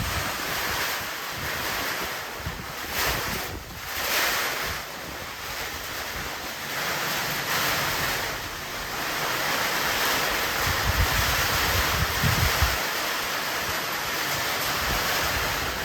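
Strong stormy wind roars and gusts at night across an outdoor Halloween yard haunt. The steady rushing noise surges and eases throughout, with heavy buffeting on the microphone.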